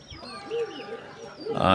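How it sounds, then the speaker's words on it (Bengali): A desi pigeon in a pigeon loft gives a few soft, low coos close by, followed by a brief louder burst of noise at the end. "এটাও একটা দেশি কবুতর"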